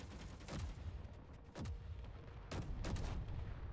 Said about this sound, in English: Those artillery turrets, those assault cannons doing massive work on there.